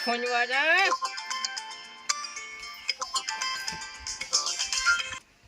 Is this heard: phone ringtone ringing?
yes